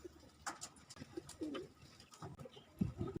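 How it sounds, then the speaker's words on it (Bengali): A pair of pigeons building a nest coos in short, low, throaty phrases close by, with soft rustling and small clicks in between in a quiet setting. "আপনারা আমার সামনে যে কবুতর জোড়াটা দেখতেছেন"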